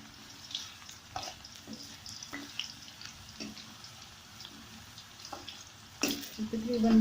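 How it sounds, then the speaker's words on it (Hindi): Potatoes frying in a pan, a low, steady sizzle with occasional stirring knocks and scrapes, louder clatter and bubbling toward the end. "बस ये हमारे आलू तकरीबन फ्राई हो गए।"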